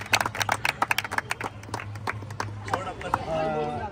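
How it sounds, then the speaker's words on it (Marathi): Applause for a teacher at a school food festival: a brisk burst of hand clapping from a small crowd that thins out after a couple of seconds, giving way to voices chattering. "सरांसाठी खरं तर टाळ्याच झाला पाहिजे. जोरात टाळ्या होऊन जातात."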